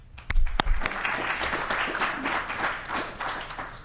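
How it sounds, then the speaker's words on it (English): An audience at a panel discussion applauds, a few loud claps up front swelling into steady, moderately loud clapping that continues without voices. "A round of applause, please."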